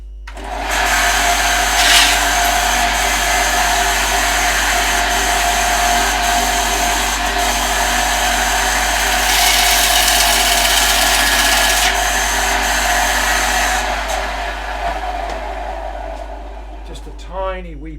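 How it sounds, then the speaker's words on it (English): A power tool grinds down a guitar part in a workshop, a loud steady whirring drone that holds for most of the stretch with a brief harsher burst near the middle before winding down. "Just quickly grind that a little bit more."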